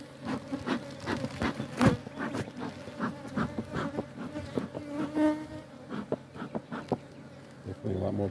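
Honey bees buzzing around an open beehive during a spring inspection, a steady close hum of many wings with occasional louder passes and faint handling noises.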